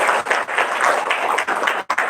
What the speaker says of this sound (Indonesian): Lebih keras lagi tepuk tangannya.